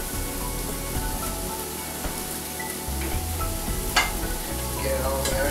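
Green and red onions fry loudly in a hot pan, a dense continuous sizzle with crackling pops and occasional clinks of a utensil, and no talking.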